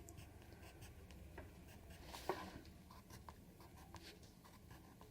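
A pen or pencil scratching softly across paper while someone draws along, making faint, intermittent strokes with one slightly louder mark near the middle, all quiet and close with no voices.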